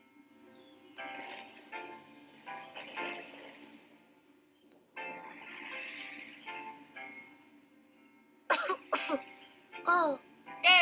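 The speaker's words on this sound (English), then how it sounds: "you're coughing because of the smoke" A person coughs repeatedly from smoke in a classroom role-play, with a sharp burst of harsh coughs near the end, amid quieter voices and talk earlier on.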